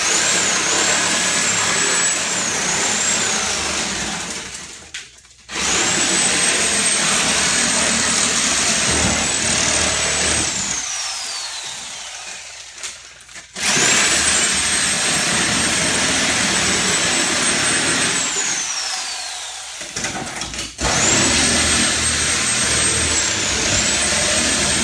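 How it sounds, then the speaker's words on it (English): A reciprocating saw cuts through a car windshield in long bursts, a loud high-pitched buzzing whine over grinding glass, stopping and restarting three times with short pauses between runs. "Stick the sawzall through. Now I split the windshield right down the middle"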